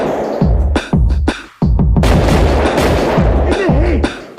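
Gunshots ring out in a film scene, a rapid burst of loud cracks and booms firing one after another with brief gaps, some shots overlapping in a volley.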